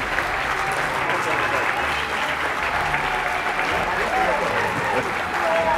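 Sustained applause fills a hall at an awards evening, with many hands clapping steadily for the honorees and faint voices mixed into the crowd noise.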